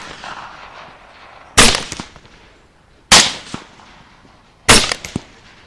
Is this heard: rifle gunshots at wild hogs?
yes